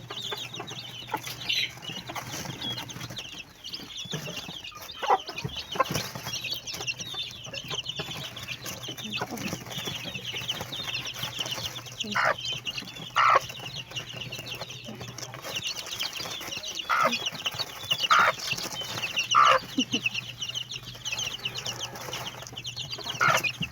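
Eight-day-old chicks eating, with soft pecking and scratching under a steady chorus of faint, close peeping and chirping across the whole stretch.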